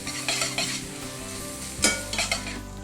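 Spinach wilts in sizzling brown butter in a pan, stirred and tossed. A bright sizzle rises and falls with quick utensil scrapes over roughly three seconds, above a low steady hum, and no one speaks.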